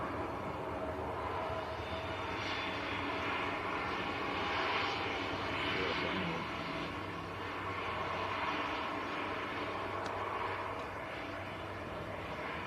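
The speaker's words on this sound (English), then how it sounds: "And that was EasyJet's Fearless Flying aircraft that's just returned." An easyJet aircraft landing at Manchester Airport, a sustained engine roar with swelling and easing rumble, heard from a distance, no voices.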